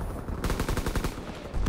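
Rapid automatic fire from a Volk rifle in the Call of Duty: WWII video game, a fast, dense string of close, loud gunshots running without pause through the whole short burst.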